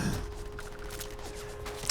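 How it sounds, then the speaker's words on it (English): Gunfire in the Starfield video game as a guardrail gets shot, a short burst of rapid shots with a faint ring, steady and close for under two seconds with no talk. "I think I'm shooting a guardrail."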